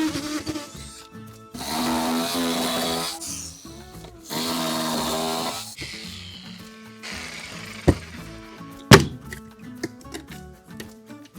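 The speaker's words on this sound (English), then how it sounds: "I'm hoping I can take the skill saw and work my way up" A circular saw whines through a wooden door in two sustained cuts, separated by pauses, followed by several sharp knocks and clunks of handling.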